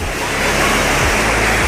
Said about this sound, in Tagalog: yung agos ng tubig